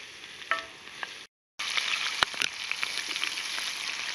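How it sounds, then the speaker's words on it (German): A steak sizzles in a pan while cooking outdoors at a forest bivouac, a steady bright hiss with scattered crackles and spits close by, broken briefly by a short cut to silence before the frying resumes. "Ja Leute, mein Steak brutzelt schon"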